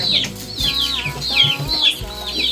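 Two small chicks cheep repeatedly up close while eating, a run of high falling peeps in an uneven rhythm with soft clucking beneath.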